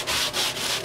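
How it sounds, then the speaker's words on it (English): Sandpaper scrubs across the wooden top of a three-string cigar box guitar in quick, close back-and-forth strokes, steady and fairly loud, with no voices. "Sand the top smooth."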